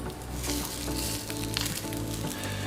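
A breaded butterfish burger patty sizzles steadily in a hot pan, a dense continuous crackle of frying oil with small pops, close and fairly loud with no talking.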